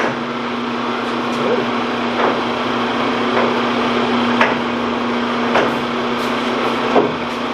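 Antique lathe running in high gear in a workshop, a steady continuous mechanical hum with faint periodic clicks, close and fairly loud throughout.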